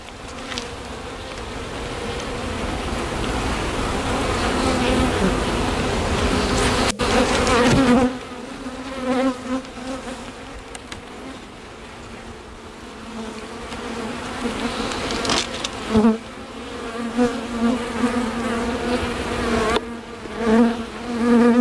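Honey bees drone and buzz around an open hive holding a yellow queen, eggs, brood, honey and nectar, a steady close swarm hum that swells loudly, dips, then surges again in waves, with no talking.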